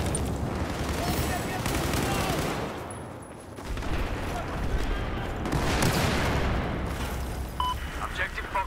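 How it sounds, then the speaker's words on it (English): Automatic gunfire from a rifle in Battlefield 4 multiplayer: dense, sustained bursts of rapid shots and explosive battlefield noise, loud and nearly continuous, with a brief lull midway before firing resumes. "once you hold down that fire button, the bullets just go flying everywhere"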